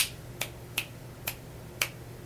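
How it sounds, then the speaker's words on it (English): Four crisp finger snaps ring out alone at an uneven pace, each a sharp close click with quiet background hum between. "you need to learn how to snap your fingers"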